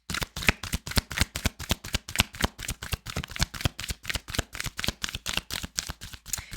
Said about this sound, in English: The reason why I'm shuffling and shuffling is because I'm waiting for the cards to pop out